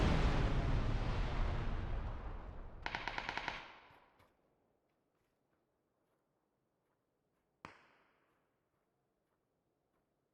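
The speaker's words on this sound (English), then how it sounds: "Grenades going off" In a PUBG match, rapid gunfire and grenade blasts roar loudly at first, then a sharp burst of automatic fire cuts off into near silence, followed by a lone distant crack and a last faint pop.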